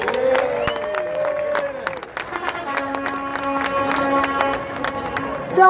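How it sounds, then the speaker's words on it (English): A crowd at a summer festival in Flushing Meadows, Queens, claps in a steady wash of applause with scattered sharp claps, while tonal music or voices carry through the crowd noise. "Come on, a good Queens round of applause."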